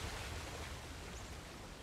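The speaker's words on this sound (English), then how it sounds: "Another waterfall." Waterfall in the video game Uncharted The Lost Legacy, a steady, dense rushing roar of falling water that holds evenly throughout with no voices over it.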